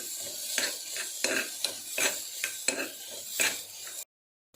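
Onion and tomato being stirred in a frying pan, a spoon scraping in repeated rhythmic strokes over a soft sizzle, close and fairly loud, ending abruptly in silence.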